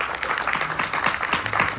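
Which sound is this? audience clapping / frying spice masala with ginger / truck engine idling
audience clapping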